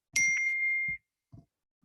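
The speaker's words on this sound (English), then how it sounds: "Sorry for the dings. My phone is blowing up." A phone notification chimes once, a bright ringing tone that lasts nearly a second, followed by two faint soft clicks in an otherwise quiet room.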